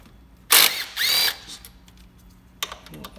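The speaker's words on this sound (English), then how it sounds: "Just unbolt these four bolts. You have two nuts and two bolts." A power tool driving a 12 mm socket unbolts bolts on a Honda S2000 throttle body, giving two loud close whirring bursts, then a quieter short whir after a pause.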